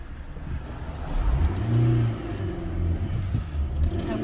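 A car engine idles low, then revs up briefly and settles back, with a soft whir and rumble close by.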